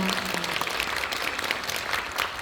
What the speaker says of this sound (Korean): 여러분들께 우리 한번 박수 쳐드릴까요?